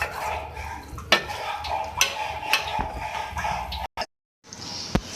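Chicken Shinwari karahi stirred in a pan, a spoon scraping and knocking against the metal in repeated strokes over a soft sizzle, with a brief break near the end.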